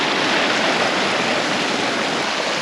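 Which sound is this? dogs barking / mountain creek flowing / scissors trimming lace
mountain creek flowing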